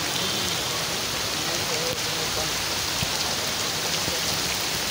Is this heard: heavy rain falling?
yes